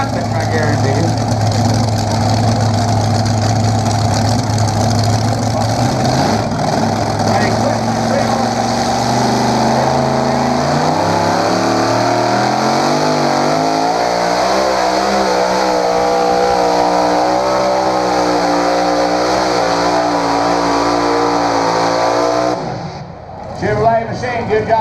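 A pulling tractor's engine roars loud and close at a tractor pull, holding a steady heavy drone with rising and falling pitch sweeps. The roar cuts out briefly near the end, and an announcer talks over it.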